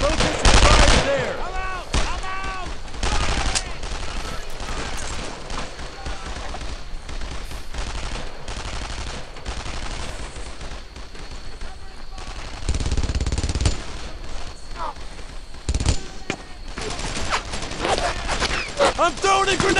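Gunfire in the WWII shooter Brothers in Arms: Earned in Blood, a loud, near-continuous barrage of rifle and machine-gun fire with heavy bursts, while soldiers shout orders over the shooting.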